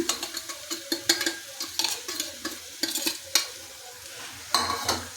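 Spoon stirring onion curry with salt and turmeric in a pan, sharp irregular scrapes and clinks of utensil against metal over a soft sizzle, close and clear with no voices.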